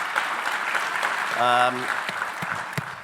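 Audience applause at a HITRUST Collaborate 2024 conference, a steady wash of clapping from a crowd, with a brief tonal voice or chime rising in the middle over the clapping.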